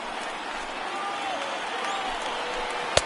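Stadium crowd in the MLB The Show baseball video game, a steady roar of cheering and applause from over 39,000 fans on their feet, loud and continuous, ending with a sharp bat or glove crack.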